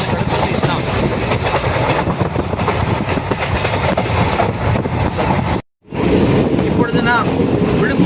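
A train on the Trichy–Tambaram mainline runs near Villupuram railway station with a loud, steady rumble and clickety-clack of the wagons, cut by a brief dropout near the end.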